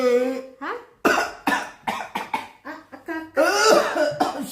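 A person coughs in a series of harsh, repeated bursts close by, with throaty, laugh-like breaths between them and no speech.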